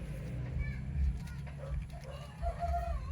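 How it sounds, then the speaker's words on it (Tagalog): Grown turkeys in a pen on a small farm gobbling and clucking at moderate distance, several short calls over a low background hum, with someone speaking nearby. "yan yung ating mga pabo ngayon."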